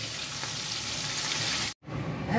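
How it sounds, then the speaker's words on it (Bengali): Rohu fish frying in hot oil sizzles steadily at close range. A brief silent break interrupts it before the sizzle picks up again, and no one speaks. "মাছ ভাজা হয়ে গেছে"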